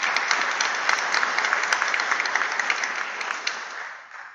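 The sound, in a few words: applause for recipients at board meeting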